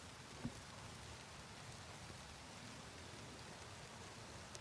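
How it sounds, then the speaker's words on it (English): Steady rain hisses across the whole band, a dense wash of drops on surfaces with one brief louder tap near the start, no voices. "I'm just sheltering from the rain again."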